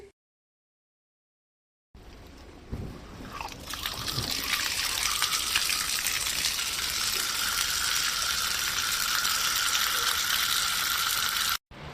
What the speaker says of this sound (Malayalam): പൈപ്പ് തുറന്നു വിട്ട സൗണ്ട് കേട്ടിട്ട്